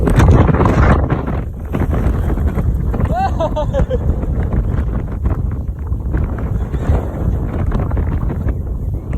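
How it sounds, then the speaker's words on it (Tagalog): Strong wind roars and buffets the microphone continuously, with faint voices and a brief high call partly buried in the gusts. "Ang hangin!"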